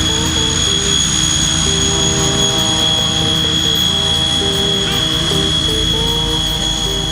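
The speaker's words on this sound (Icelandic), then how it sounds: "Hér aka 3 Fokker Fancy-vélar flugleiða í flugtaktstöðu" Three Fokker airliners taxi to their takeoff positions at an air show, their turboprop engines producing a loud, steady drone with a high whine that holds at a constant level throughout.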